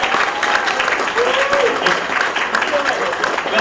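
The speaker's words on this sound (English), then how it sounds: "Big round of applause to those guys." Crowd applause at a UK comic artist and colourist Q&A panel at the Auto Assembly 2009 convention, loud sustained clapping filling the room with a few voices and cheers mixed in.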